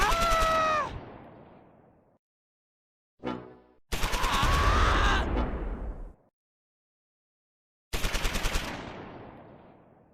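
Bursts of machine-gun fire aimed at an anti-tank gun in the World War II strategy game Close Combat 4, set in the Battle of the Bulge: three loud, sharp volleys separated by silent gaps, each trailing off in a ringing decay.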